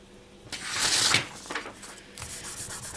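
Polymer clay is burnished onto a pendant with a few soft rubbing strokes, one longer swell followed by shorter scuffs, close and quiet with no speech.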